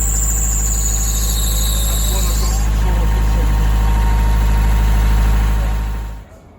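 A narrowboat engine runs at a steady low thrum with a high-pitched whine layered on top for the first few seconds, then the engine cuts off abruptly just before the end.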